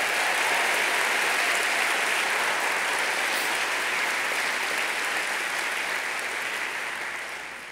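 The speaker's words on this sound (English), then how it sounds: "A round of applause." A large civic audience at Long Beach's State of the City address applauds police and fire departments with dense, sustained clapping that fills the hall evenly before gradually tapering at the end.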